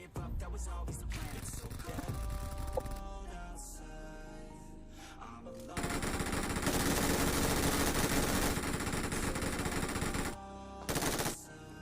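Rapid automatic gunfire in a battle royale video game fight, loud dense bursts with a sustained stretch of continuous fire and short pauses between volleys.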